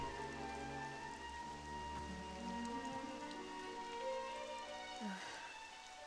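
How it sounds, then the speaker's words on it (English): Steady in-game rain from Dragon Quest XI S patters evenly under soft, sustained background music for the full stretch. "Why does it always start raining the second we get a chance to be alone?"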